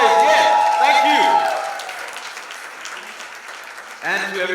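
An audience at a television series trailer launch event applauds and cheers loudly, with whoops and shouts over dense clapping that slowly fades, then a fresh burst of cheering near the end.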